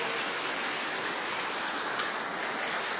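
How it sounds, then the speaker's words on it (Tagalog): Heavy rain pours in a dense, constant hiss, loud and close, with no breaks and no voices. "Grabe yung ulan."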